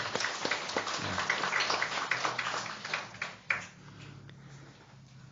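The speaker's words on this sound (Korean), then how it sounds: "우리 뜨거운 박수로 환영하겠습니다" A church congregation gives warm applause to welcome newcomers, a dense, fairly close burst of many hands clapping that thins and fades after a few seconds, with no talking over it.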